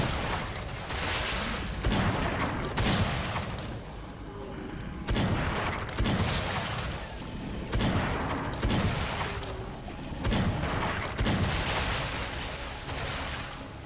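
Heavy, repeated gunfire from a boomer shooter video game, loud booming bursts arriving roughly every second or two in a dense, continuous barrage with echoing tails.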